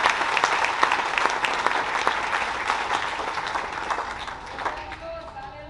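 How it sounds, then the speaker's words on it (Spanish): A church congregation applauds during a Spanish-language service, a thick burst of many hands clapping that gradually tapers off, with a voice emerging as the clapping fades. "Denle el aplauso a Cristo"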